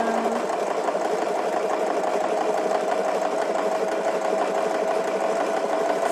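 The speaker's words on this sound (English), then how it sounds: "when you sew it finished at the end, then you can do a little backwards and forwards just to get it secure" A sewing machine doing free motion embroidery runs in a steady, fast mechanical whir with an even pitch and constant level throughout, close by and without speech.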